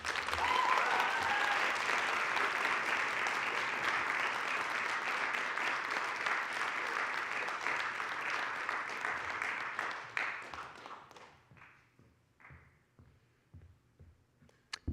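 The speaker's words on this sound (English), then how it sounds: "Let's give another round of applause to our writers." An audience at a junior creative writing reading gives sustained, loud applause for about ten seconds, which then thins into a few scattered claps before fading out.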